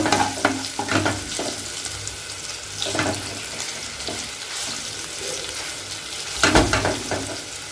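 Ginger fries in a pan, a bubbling sizzle broken by repeated louder bursts as it is stirred, close and continuous, with no talk.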